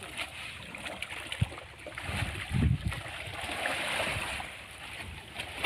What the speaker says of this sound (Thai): น้ำไหลเชี่ยวมากเลยค่ะ